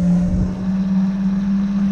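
A Tesla Cyberquad fitted with a Kunray brushless motor whines steadily as it drives in reverse, a loud, close, continuous electric motor tone with a slight wavering rumble.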